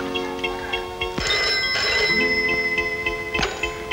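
A telephone rings in repeated short trills, clear and fairly loud indoors, with a brief thud partway through.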